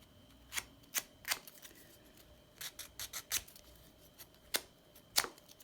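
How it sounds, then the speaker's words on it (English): Scissors snip quietly through origami paper, rounding its edges in a series of short, crisp cuts at an uneven pace, with no one talking. "I've got my scissors here, and just cut it off so it's a nice rounded edge"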